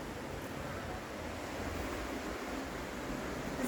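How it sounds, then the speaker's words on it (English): Breezy wind and surf washing ashore outside a seafront hotel room in Benidorm, a steady broadband roar of waves and gusts that stays constant and fairly loud, with no talking. "it's quite breezy today and there's a bit of surf up, so that does make quite a lot of noise"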